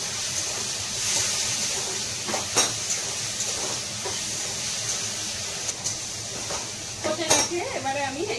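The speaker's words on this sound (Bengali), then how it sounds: "একটু জল দিয়ে দেবো ভালো করে কষতে" Masala frying in a pan with a splash of water, stirred with occasional utensil knocks and clinks over a steady background sizzle, plus a brief scraping flurry near the end.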